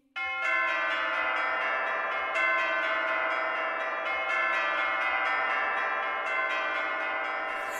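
Church bells ring in a rich, sustained wash of overlapping tones, with fresh strikes near the start and again partway through, loud and steady within a musical setting.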